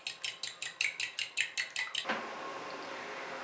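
Two eggs are beaten in a bowl with about a dozen quick, evenly spaced clinks of utensil on the bowl, then a softer continuous whisking swirl.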